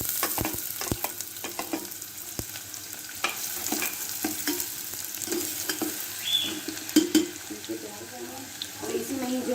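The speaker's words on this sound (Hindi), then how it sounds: "ऑयल गर्म हो गया है, अब हम इसमें प्याज डालेंगे।" Onions hitting hot oil in a pan and sizzling while being stirred, a continuous frying hiss with scraping spoon strokes and a few clinks, close and fairly loud.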